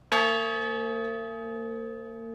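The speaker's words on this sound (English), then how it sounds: "A group of veteran volunteers toll the bell." A single strike on a 1,000-pound bronze memorial honor bell, tolled by veteran volunteers, rings out loud and close, its rich sustained tone slowly decaying across the whole span with no talk.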